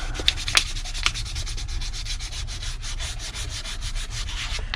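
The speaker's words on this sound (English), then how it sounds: "used this 1000 grit here and just kind of went through and evened it all out nicely" Fine 1000-grit sandpaper rubs over the leather toe of a resoled Meermin shoe, a steady close scratchy sanding with a few sharper scrapes early on, no voices.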